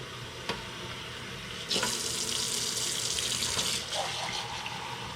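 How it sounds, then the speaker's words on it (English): Tap water pours into a tub being filled for a pet hedgehog's bath, starting with light trickling and then swelling into a steady, close rushing stream that continues to the end. "So we're just going to fill the tub."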